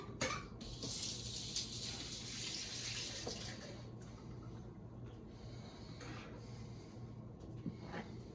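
Water runs steadily from a kitchen tap into a sink while pinto beans are being prepared, a continuous close hiss holding for the full length with small splashy variations and no talk.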